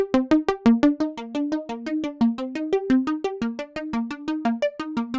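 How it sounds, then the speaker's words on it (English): A simple synth pattern programmed in Ableton Live plays alone as steady, evenly spaced plucky notes in a repeating melodic sequence, bright and close throughout. "I've just got a simple kind of synth pattern"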